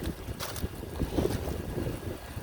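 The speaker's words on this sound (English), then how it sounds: "it's the wind just picked up" Wind gusting outdoors near a griddle, buffeting the microphone in loud, uneven rumbling bursts with brief rises in strength.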